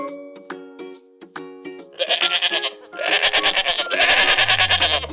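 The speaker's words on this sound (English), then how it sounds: "G is for goat." After a run of bright musical notes, a goat bleats repeatedly, loud and close, in wavering cries over a children's alphabet song.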